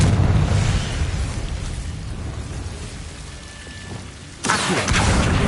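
A Confringo fire spell from Hogwarts Legacy erupts in a loud blast that crackles and fades over a few seconds, then a second sharp burst strikes near the end.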